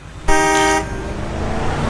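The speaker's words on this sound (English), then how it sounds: "A car beeped as it raced past exactly where I would have run to had I not stopped at that exact moment" A car horn gives one loud, sustained honk of about half a second as a car races past nearby, followed by the fading rush of the passing vehicle and traffic noise.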